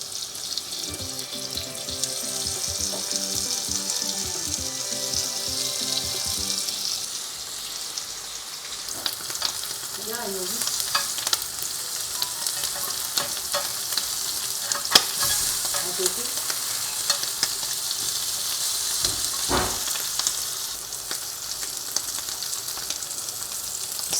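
Paneer fries in a hot pan, sizzling steadily throughout with occasional stirring scrapes and clatters, and no one speaks.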